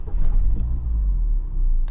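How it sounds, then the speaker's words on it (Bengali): A Mazda MX-5 Roadster's engine starts up, a low close rumble that settles into a steady idle over a couple of seconds, with no talking. "Let's start the car. ব্রেকে চাপ দিলাম"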